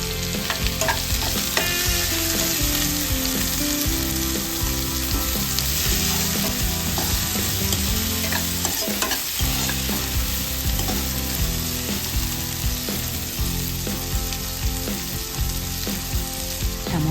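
Tomato and onion pieces frying in a pan for a cluster bean fry, a continuous loud sizzle with repeated stirring scrapes throughout, with no voices.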